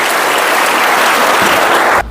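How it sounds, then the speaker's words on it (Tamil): Loud, dense audience applause for teachers at a Tamil-language school gathering, a solid burst of many hands clapping that cuts off abruptly at the end. "இங்க இருக்கிற அத்தனை ஆசிரியர்களுக்கும் ஒரு நல்ல கைதட்டு நான் ஒரு நல்ல கைதட்டு கொடுக்குறேன்"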